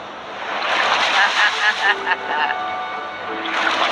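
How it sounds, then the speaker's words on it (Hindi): Large ocean waves crash and surge continuously near a rocky island shore, with loud rushing surf and wind buffeting the microphone, swelling and fading over a few seconds. "वो लहरें काफी बड़ी लग रही हैं और वो हमारी तरफ ही आ रही हैं।"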